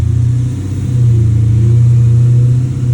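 Widebody Dodge Challenger Scat Pack with headers on E85, revving on a dyno as it runs up through the gears, a loud, close, steady low engine drone that climbs slightly partway through, with no voices.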